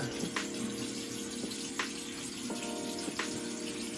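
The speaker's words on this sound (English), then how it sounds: "I'm gonna go ahead and wash my face right now. I'm gonna wash this turmeric off," Tap water runs steadily from a faucet into a sink while turmeric is washed off a face, a soft continuous splash with a few louder splashes and drips over about four seconds, close by and with no talk.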